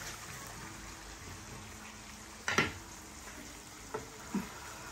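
Nigella seeds frying in oil for lentils make a steady close sizzle with a few sharper pops and crackles, heard alone without talk.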